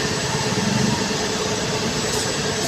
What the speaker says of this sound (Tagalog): MRT papuntang southbound, papuntang Pasayan.